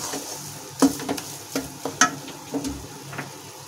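Wheat flour roasts in a pan for laddu, a soft low sizzle broken by several irregular scraping stir strokes and light knocks of a spoon against the pan.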